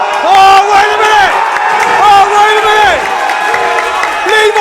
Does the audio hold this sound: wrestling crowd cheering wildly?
yes